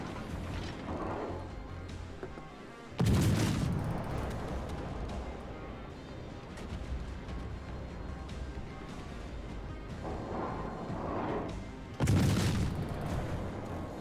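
Warship guns in World of Warships fire in two heavy booming salvos, one about three seconds in and another near twelve seconds, each a loud broadband blast that rolls off into a long rumbling decay over steady engine and sea ambience.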